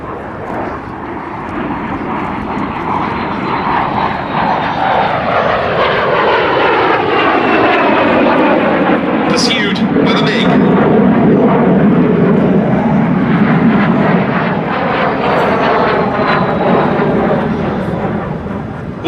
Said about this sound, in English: the distinctive twin-boom shape of the two de Havilland Vampires of the Norwegian Air Force